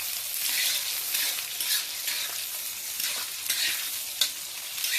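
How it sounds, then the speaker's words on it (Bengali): Onions sizzle in hot oil in a pan while being stirred, a close, steady hiss with soft scraping swells and one sharp tap near the end, and no talking. "পেঁয়াজ দিয়ে দিলাম। দিয়ে এটাকে এবার নেড়ে"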